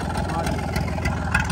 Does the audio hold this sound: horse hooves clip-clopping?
no